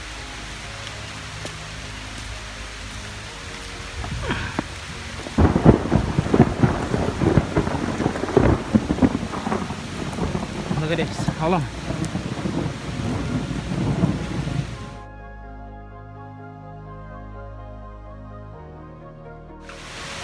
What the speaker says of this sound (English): It's raining a lot, but come on.